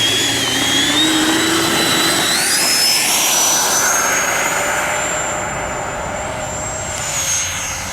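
An FMS Rafale 80mm electric ducted-fan radio-controlled jet takes off, its loud, steady high-pitched whine rising in pitch as it speeds up, then holding and fading slightly as it climbs away, with no talk.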